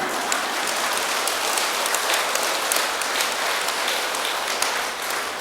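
A temple audience at a Buddhist dharma talk breaks into steady, sustained applause, a dense wash of clapping that holds at even loudness throughout with no voices over it.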